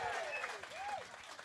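Applause from a concert audience greets a rock band, a broad steady wash of clapping that fills the short moment with a bit of crowd noise and fragments of voice on top.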